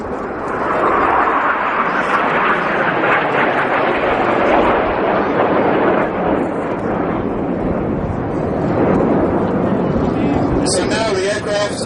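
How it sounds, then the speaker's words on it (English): Red Arrows jet aircraft fly overhead in formation, a loud, steady broadband roar that fills the whole stretch with only slight swells, and a voice may be present under the noise. "So now the aircraft are 1 kilometre high above us."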